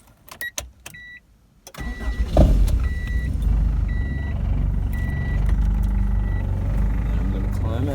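An Acura Integra is started and left to idle, its engine settling into a steady low rumble after a few clicks and a starter burst. A person speaks and faint beeping tones are heard.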